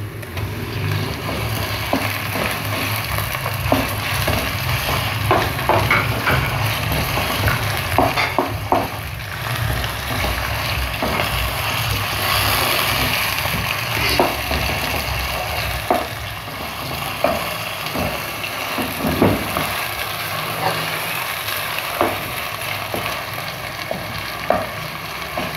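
Minced keema frying with light-browned onions in a pan, a steady loud sizzle with scattered crackles and occasional stirring scrapes throughout.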